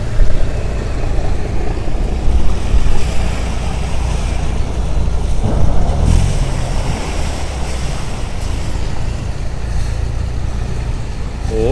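A Saen Saep canal passenger boat docking at a pier in the morning, with a continuous loud wash of churning water, engine rumble and wind buffeting the microphone throughout.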